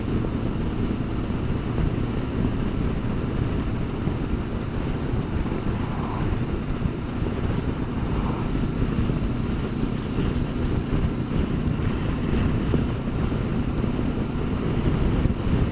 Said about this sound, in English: It's very blustery, but it's warm enough now.